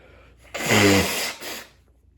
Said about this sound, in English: I'm wanting to sneeze like this whole time.